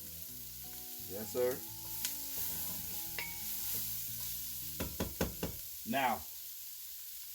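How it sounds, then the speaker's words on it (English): Onions sizzle and brown in a pot for old-fashioned beef stew, a steady close frying hiss broken by stirring knocks, while someone talks briefly over it and music plays underneath. "Look how them onions and stuff starting to brown in there, fam."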